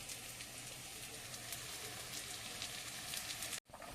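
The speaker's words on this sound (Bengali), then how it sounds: "মাছের ঝোলটা ফুটে উঠেছে" A pot of katla fish curry bubbles at a boil, a soft continuous sizzling patter like light rain, cut by a brief drop out near the end.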